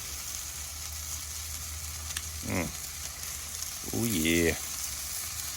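Smoked chicken wings sizzle steadily on an Oklahoma Joe's Judge smoker grill while tongs flip them, a constant close frying hiss with a brief spoken exclamation over it.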